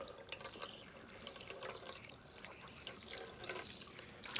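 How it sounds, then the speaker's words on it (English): Water runs steadily from a tap or faucet into a sink, a continuous close splashing hiss with no talk, during work on an old Lawnboy lawn mower. "This is water."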